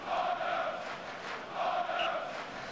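Crowd chanting from a Sensible World of Soccer match on the Commodore Amiga, Man City versus Man Utd: a steady, swelling roar of voices in two broad surges, moderately loud with no talk over it.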